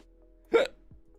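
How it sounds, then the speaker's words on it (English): A single sharp hiccup from a person, brief and fairly close, standing alone against a quiet background with a faint trailing sound after it. "Hiccups."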